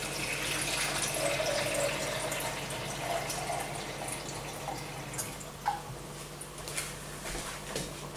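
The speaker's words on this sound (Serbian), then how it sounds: "Ja ću dodati još 500 ml." Water pours steadily into a cooking pot of beef goulash. The close, continuous stream is heard alone, with faint drips toward the end.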